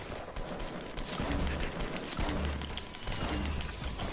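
Gunfire in a Fortnite battle royale match, rapid repeated shots in dense bursts with thudding impacts, moderately loud against a busy game background.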